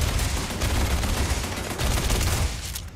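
Dense, continuous gunfire from automated turrets in the Starfield video game, a rapid crackling barrage of shots that runs steadily throughout, fairly close and loud with no clear pauses.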